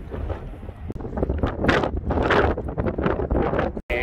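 Strong wind roars and buffets the microphone on the Walkway Over the Hudson bridge in cold weather, loud and continuous with gusty surges throughout.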